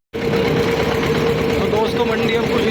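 A tractor engine drones steadily on the road to the market, a close, loud, even hum with a strong low tone and no pauses.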